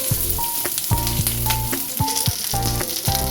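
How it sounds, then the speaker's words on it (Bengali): Onion and capsicum frying lightly in a pan for a soybean dopiaza, a steady close sizzle broken by repeated scraping stirs, with no talking. "পেঁয়াজ আর ক্যাপসিকামটা হালকা ফ্রাই করে নিচ্ছি"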